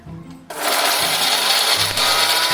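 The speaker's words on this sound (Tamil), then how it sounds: "இதை வந்து மிக்ஸி ஜாரில் போட்டு அரைச்சிட்டு வந்துடலாம்." A mixer grinder jar loaded with cut coconut pieces roars into life after a half-second of quieter noise, then grinds loudly and continuously at close range with a brief dip in pitch near the end.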